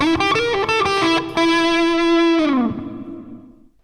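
An electric guitar riff at normal speed, quick distorted notes with a chorus-like shimmer, ending on a held note that slides down and fades away.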